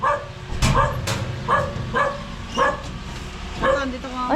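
A dog barks repeatedly at a house gate in the Philippines, several sharp barks spaced about a second apart at moderate distance, with people talking over and between them.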